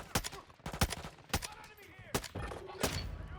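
Gunfire in the video game DMZ, shooting at Shadow Company bots: several sharp, separate shots ring out in an irregular rhythm, fairly close, with brief echoing tails between them.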